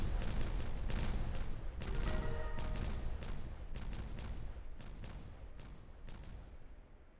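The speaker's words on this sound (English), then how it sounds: "but here's some fireworks" Fireworks in the beaver colony-building game Timberborn, a rapid barrage of sharp cracks and booms with brief whistling tones, dense at first and then thinning into scattered pops as the rumble fades.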